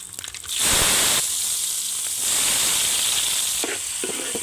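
Thinly sliced onions, two of them, drop into hot tempering oil scented with asafoetida for a village-style bachali kura pappu, bursting into a loud, steady sizzle that holds through the clip with a brief stirring clatter near the end.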